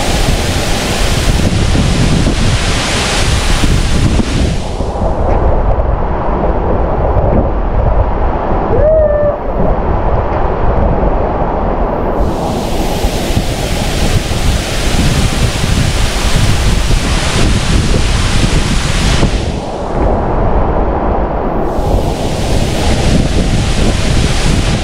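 Steady roaring rush of falling water at Munduk waterfall in Bali, loud and close, with gusts of wind buffeting the microphone throughout.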